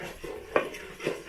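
Food being stirred and mixed in a pot in a traditional local way in a village kitchen, with a few scraping, knocking strokes of a utensil against the pot, close and fairly loud.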